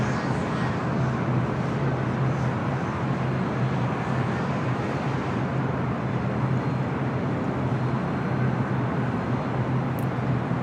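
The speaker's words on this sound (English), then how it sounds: "Heading back to Rome, the A350-900 now rolling down at 25 right" Airbus A350-900 rolling down runway 25 right at LAX, a steady distant broadband roar of jet engines over airport ambience, even in level throughout.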